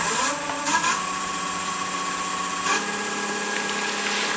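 A wood lathe spinning at 1100 RPM, a steady whirring hum with a stable tonal drone and faint rising whine, running alone without talk.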